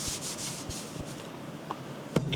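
Knife blade being sharpened on a 12,000 grit whetstone, soft repeated scraping strokes in a quick rhythm, close and fairly quiet, ending with a couple of sharper clicks.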